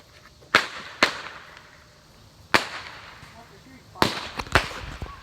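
Airsoft guns fire in an indoor house game, giving five sharp, loud cracks like firecrackers, spaced unevenly, with two close together near the end.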